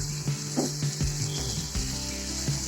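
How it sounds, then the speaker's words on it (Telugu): Potato pieces frying with onion, tomato, green chilli and curry leaves, giving a steady close sizzle with a few spoon clatters against the pan and no talking. "ఇవి రెండు కలిపి కొద్దిసేపు ఫ్రై చేసుకోవాలి"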